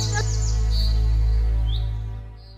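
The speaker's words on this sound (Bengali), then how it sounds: "এই পাখিরা না সব সময় খালি কিচির মিচির করতেই থাকে।" Cartoon birds chirping and singing in a sped-up animated style, with bright tweets and whistles over a steady sustained tone, loud and close throughout.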